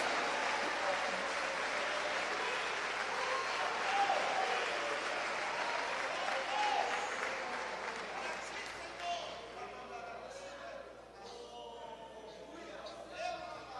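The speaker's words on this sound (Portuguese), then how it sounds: "Os que entenderam a palavra, aplaudam o Rei dos Reis e Senhor dos Senhores." A church congregation at a service led by Pastor Abílio Santana applauds. Loud, dense clapping fills the first half, then thins and fades while voices carry on over it.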